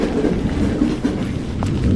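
Heavy rain pours down steadily in a dense, noisy wash, with a faint low rumble like distant thunder underneath.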